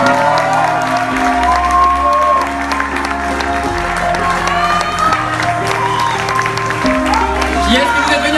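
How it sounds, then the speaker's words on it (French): An audience claps steadily at a Miss T France 2022/23 pageant event, a dense, loud wash of applause with scattered cheers and a speaking voice over it throughout. "On peut les applaudir."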